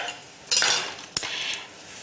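Chopped carrot chunks are dropped into a tray of roasting beetroot, two sharp clattering impacts a moment apart, close and fairly quiet, with no voices.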